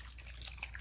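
Chicken broth is poured into a slow cooker, a short, steady splashing trickle of liquid heard up close.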